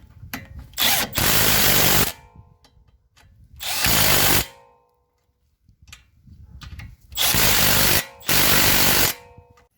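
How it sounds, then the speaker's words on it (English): A power tool, likely an impact gun, tightens bolts underneath a VW Passat 3C2 V6 3.2 FSI during drive shaft replacement, in four loud close bursts of about a second each separated by quiet pauses. "don't forget to tighten your bolts underneath"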